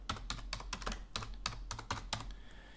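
A computer keyboard is tapped to enter a link title in WordPress, giving a quick, close run of about a dozen crisp keystrokes in uneven bursts over a faint low hum, with no speech.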